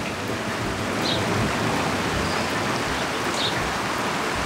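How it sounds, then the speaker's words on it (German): Steady rain pours down over an organic garden, heard from a terrace as a dense, even hiss with no talk and little change throughout. "Hört ihr den Donner und den Regen?"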